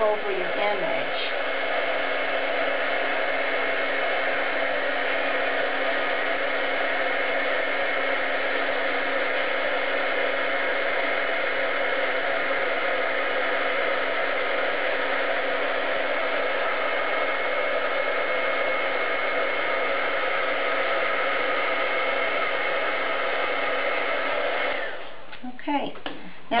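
Heat gun blowing steadily for about 25 seconds, melting embossing powder on cardstock, a constant loud whooshing hiss that cuts off near the end.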